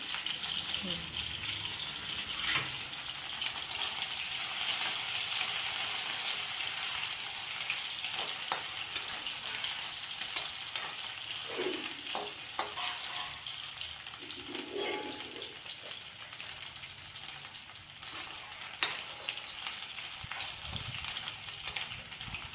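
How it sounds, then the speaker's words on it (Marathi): Dried Bombay duck fish fries in a pan with a faint, steady hiss that runs throughout, and a few soft clinks and a brief voice sit over it. "बोंबील तळून घ्यायचे, नंतर टाकायचे भाजी."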